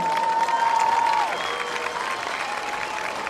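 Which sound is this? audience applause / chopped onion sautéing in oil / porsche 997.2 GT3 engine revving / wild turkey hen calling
audience applause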